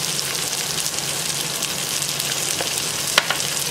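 Vegetables sizzle and fry steadily in hot oil in a pan while chorizo risotto is cooked, a dense continuous crackle with a couple of sharp pops near the end and no talking.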